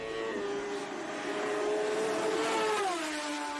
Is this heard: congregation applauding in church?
no